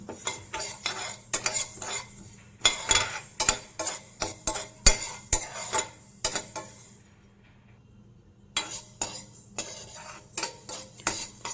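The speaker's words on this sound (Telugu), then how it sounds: "ఇలా తిప్పుకుంటూ మంచిగా వేపుకోండి" A spoon scrapes and clinks against a pan in quick repeated strokes as fenugreek seeds roast, with a short pause before the stirring resumes.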